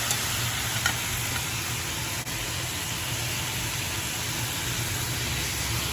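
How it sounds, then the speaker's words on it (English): Calamari deep frying in hot oil on a very hot stove, a steady close sizzle and crackle with faint stirring underneath, continuous and alone without talk. "let's stir it up a little bit"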